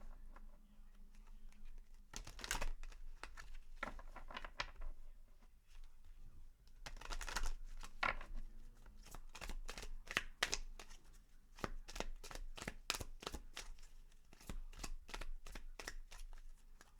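Angel of Abundance oracle cards are shuffled by hand, coming as bursts of crisp riffling and slapping. The bursts are separated by short pauses and then quicken into a rapid run of close, sharp card flicks.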